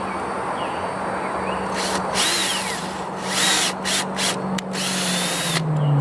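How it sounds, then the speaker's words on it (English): A power drill drives screws into wood for a chicken tractor waterer, with a steady motor whine that rises into several loud, close bursts of driving with short pauses between them. "Then I'll run my screws through here"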